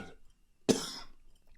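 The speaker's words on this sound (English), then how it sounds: "I'm sorry, y'all, for coughing in the mic." A single sharp, close cough into a microphone, loud and abrupt, trailing off into quiet after a brief breathy pause.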